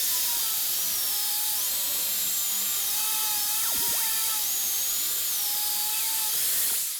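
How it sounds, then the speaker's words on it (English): Angle grinder fitted with a sanding attachment works a piece of softwood pine, a steady high-pitched whine that swoops up and down in pitch as pressure changes, loud and continuous throughout with no talk. "You can stick it on the angle grinder and we'll just sand up this bit of wood."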